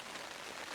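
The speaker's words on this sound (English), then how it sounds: "the rain falling even harder" Heavy rain pours down in a dense, continuous hiss that fills a brief moment without pause or other sounds.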